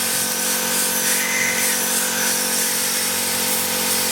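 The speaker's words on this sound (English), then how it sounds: "Here we're trying the tech drilling cycle." A Rapid Turn machine runs a tech drilling cycle on a deep hole with plenty of coolant, giving a steady, loud, continuous mechanical whir and hiss that holds evenly throughout.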